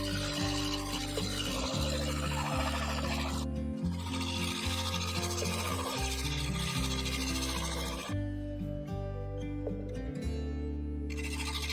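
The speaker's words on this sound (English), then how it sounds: "I carefully shear scraped a slight curve from the centre down towards the edge" A scraper shears across a spinning cherry wood lid on a lathe, shaping a slight curve from centre to edge, giving a steady, loud rubbing rasp over the constant lathe hum, with brief pauses and changes in pressure.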